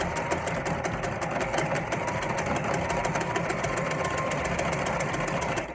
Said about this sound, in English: put your needle down before you start sewing